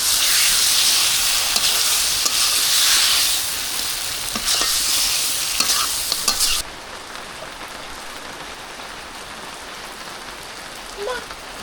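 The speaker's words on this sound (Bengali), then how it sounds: "এর মধ্যে আমি কোনো পানি অ্যাড করব না, এটাতে ভালো করে কষাই নিব" Beef fries without added water in a pan, a dense loud sizzle for the first six or so seconds with a few stirring knocks, then dropping to a quieter steady hiss that sounds like rain on a village day.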